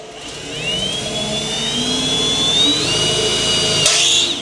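A power drill whines steadily, its pitch rising and shifting as it bites, loud and close, with a brief higher squeal near the end.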